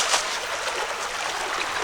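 Water rushes and burbles steadily in French Creek near the Warwick Iron Furnace, Pennsylvania, a constant bright splashing flow with no talking.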